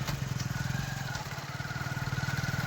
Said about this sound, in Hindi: तो हमारा ट्रैक्टर आ ही रहा है, हमारा ट्रैक्टर है।